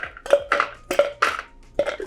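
Ice cubes drop into a metal cocktail shaker tin in four or five separate clinking knocks, close and crisp, at an uneven rhythm with no talking.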